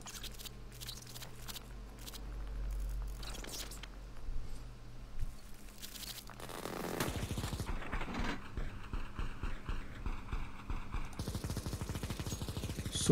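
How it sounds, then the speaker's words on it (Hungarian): Gunfire in the video game CS:GO: rapid clattering bursts of shots and mechanical clicks, loud and dense, running continuously through the second half over a busy game soundscape, with no voices. "Az ilyen lövések, ezek mik?"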